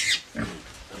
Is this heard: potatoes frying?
no